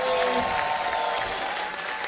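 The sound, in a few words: audience applause for Apex Kids nativity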